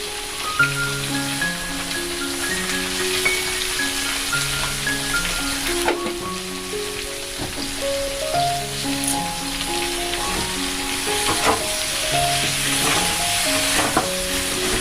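Carrots and winter vegetables frying with salt in a wok, a loud, steady sizzle like rain on a surface, stirred now and then, with music playing underneath throughout.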